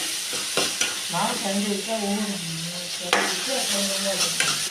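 Onion, tomato, coriander and curry leaves sautéing in a pan for a potato kurma, with a steady close sizzle and several scraping stirs of a spoon against the pan.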